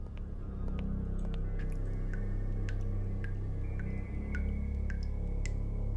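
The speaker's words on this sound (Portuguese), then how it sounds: "Tá pingando sangue daqui." Blood drips steadily in the horror video game Paranormal Entities, set in a haunted asylum: sharp, distinct droplet ticks land at irregular intervals over a low, constant droning hum, with no talking.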